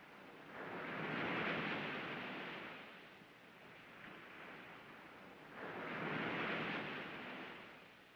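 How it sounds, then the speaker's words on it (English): Ocean waves surge and recede in two broad swells of rushing, hissing surf, rising and fading slowly, with no voices over them. "You like the sound of the ocean?"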